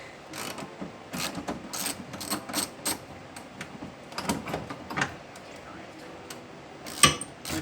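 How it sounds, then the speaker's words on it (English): A ratchet wrench worked back and forth on a 1986 Ford Mustang GT 5.0, giving repeated short clicking bursts in an irregular rhythm, close by, with a sharper louder burst near the end. "And then don't pull on the ratchet."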